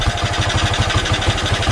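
A restored Honda XR100 motard engine idles close by with an even, rapid low thumping pulse that holds steady throughout, and no talk.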